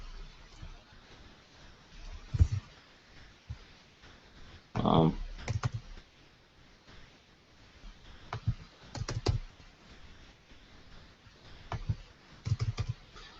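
Someone types on a computer keyboard in short bursts of close, crisp key clicks separated by pauses, with a few louder keystrokes standing out and no talk.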